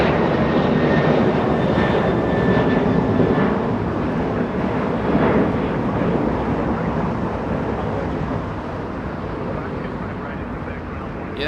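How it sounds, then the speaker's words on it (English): A United Airlines jet, flight 1266 to San Salvador, departs from LAX with a loud, sustained engine roar that is strongest at first and then slowly fades as it moves away. "United Airlines getting a move on."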